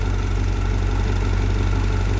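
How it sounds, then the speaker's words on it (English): A 1978 Camaro engine idles steadily while warming up, a loud, constant low rumble with a dense mechanical whir and no break. "But you basically get the engine warmed up."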